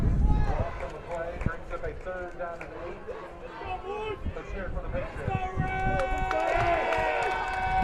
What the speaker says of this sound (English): Patriot crowd getting loud right now